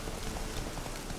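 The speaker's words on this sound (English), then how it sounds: "With the rain coming down," Steady rain falls in The Witcher 3 video game, an even, dense hiss of drops on surfaces with no breaks, moderately quiet and heard alone.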